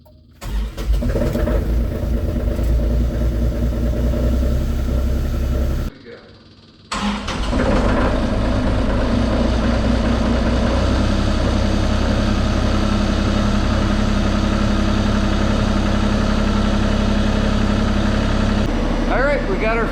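A Kubota mini excavator engine cranks with a glow plug on a cold day, falls silent for a second, then catches and settles into a loud, steady diesel idle close by.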